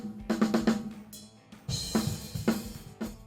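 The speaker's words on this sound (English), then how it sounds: "particularly with toms, you have a lot of ring or a lot of background noise going on" Close drum recording of toms with ringing sustain and background bleed, several quick tom hits followed by further struck notes with lingering ring and noise between them.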